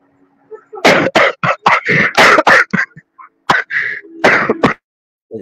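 A person on an online voice call coughs hard and repeatedly, a close, loud string of harsh bursts in quick succession with brief gaps, ending in a few scattered coughs.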